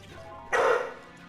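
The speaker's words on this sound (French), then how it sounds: "Il m'aboie dessus, on dirait qu'il veut jouer." A pet dog gives a single sharp, loud bark close by, a short burst over a faint steady background.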